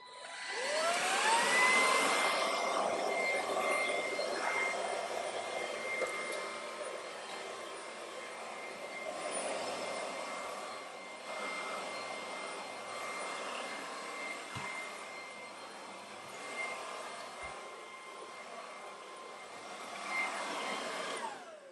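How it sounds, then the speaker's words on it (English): An Ultenic U10 Ultra cordless stick vacuum runs on its high speed setting while cleaning carpeted stairs, giving a loud, steady motor whine and airy rush that swells and dips slightly as it moves from step to step, with no talking. "So I think that makes it very easy to vacuum steps."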